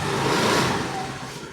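A scooter with a low battery revving close by, a loud sustained engine roar that eases off slightly toward the end.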